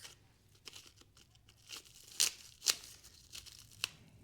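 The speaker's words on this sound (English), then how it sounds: "So here's our chisel. It's wrapped in tin foil for some reason." Tin foil wrapping is torn and crinkled off a cheap steel chisel, with soft crackling and a few sharp, close ripping bursts and no talk.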